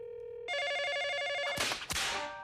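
A cartoon telephone rings, starting with a steady tone and then breaking into a loud bright electronic ringing, followed by a clattering handset pickup, all close and prominent.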